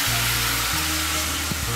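Turmeric, chili and cumin powder sizzling in hot oil with ginger: a loud, continuous frying hiss heard close, with a low background hum.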